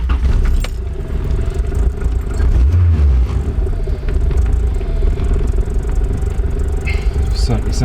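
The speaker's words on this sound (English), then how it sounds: "Let's start the car." A Honda Civic EF with a turbocharged B18C4 engine turning over and catching, then running with a rough, rumbling idle and some clatter, close by and loud.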